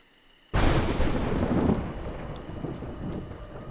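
In the video game A Juggler's Tale, a sudden loud thunderclap breaks out of near silence, then rolls on as a long rumble over rain.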